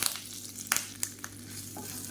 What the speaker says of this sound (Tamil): இப்போ கடுகு வெடிக்க ஆரம்பிக்குது.